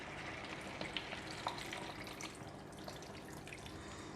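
Steady splashing of water being poured into a clay pot, fairly soft and continuous, with a few brief drips and no voices.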